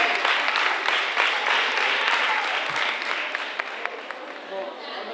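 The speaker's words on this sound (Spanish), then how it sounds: "Aplausos fuertes." Loud applause from an audience at a school Halloween party contest at IES Muñoz Torrero in Cabeza del Buey, a dense steady wash of clapping that fills the whole stretch and fades slightly toward the end.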